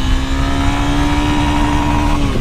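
A 2024 Honda Sahara 300 motorcycle engine accelerates hard, a loud close-up drone holding a steady, slowly rising pitch that dips briefly near the end.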